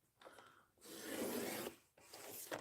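Paper being trimmed for a handmade art journal, a dry rasping cut sliding across the sheet in two close strokes, a longer pass followed by a shorter one, with no talk.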